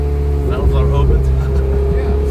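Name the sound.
Ferrari engine with exhaust valves opened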